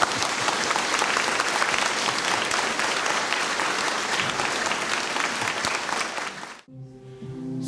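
Church audience in Kartal applauding, dense sustained clapping that fills the space for several seconds before cutting off abruptly into quieter sound.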